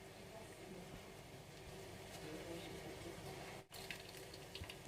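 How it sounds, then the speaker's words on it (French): Water from blended bell pepper, squeezed out by hand, runs and trickles steadily at close range, a constant wet flow with a brief drop near the end. "moi j'aime bien essorer mon poivron mixé"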